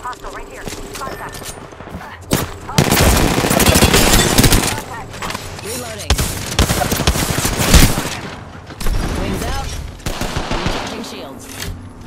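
Sustained automatic gunfire in the video game Apex Legends, played on PS4 Pro: long, loud rattling bursts with brief pauses between volleys, some heavier booms, and voices in the mix.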